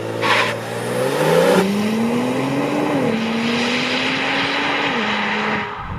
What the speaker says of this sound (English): But this thing is pretty quick, I'll show you.